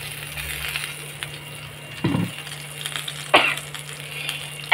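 Oil heating in a kadai for cooking vegetables gives a faint, steady sizzle, broken by a few short clatters and scrapes of a utensil against the pan.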